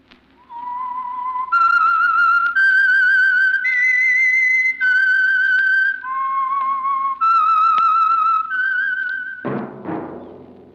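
A solo whistler carries the theme tune of The Whistler, the Signal Oil radio program, as a clear, sustained melody of held, stepped notes, ending in a sudden louder burst of broad sound.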